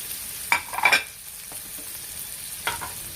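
Vegetables frying in a home kitchen pan: a soft continuous sizzle under a few louder stirring scrapes near the start and one more toward the end, no voices.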